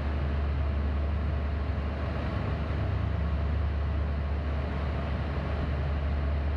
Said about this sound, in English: You can hear the pumps going in there right now.